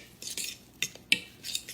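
A utensil clinks against a bowl in a few sharp, sparse taps and soft scrapes as a burger mixture with grated Parmesan and basil is mixed, close and fairly quiet, with no speech.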